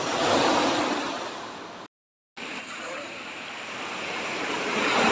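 Loud, rough sea surf at a harbor with waves crashing and roaring continuously, briefly cut to silence midway, with wind buffeting the microphone.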